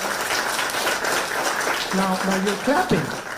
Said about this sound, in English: you're clapping, but the slogan did not come